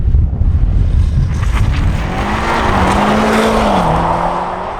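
A BMW M5 Competition launching hard with launch control: a loud, broad engine roar with rising and shifting tones that builds and holds steady through the pull, heard from inside the car with no talking.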